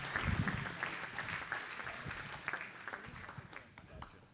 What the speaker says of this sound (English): give them a lot of love with a big round of applause, if you will